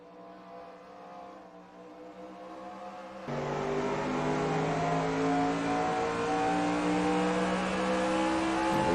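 A race car engine in a Winston Cup racing video game at Nazareth drones steadily, then surges louder as it revs up, with shifting gear tones from clutch changes; no voices.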